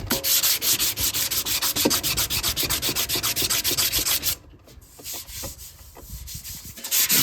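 Excess Bondo body filler being sanded off a repaired car dent, a steady loud scraping rub in rapid back-and-forth strokes that stops abruptly partway, leaving quieter scattered scuffs.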